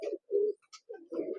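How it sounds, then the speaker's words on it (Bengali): Short, close coos from a Murshidabadi high-flying pigeon come in several breathy bursts separated by brief silences, with a faint higher chirp in between. "দেখুন পায়রা"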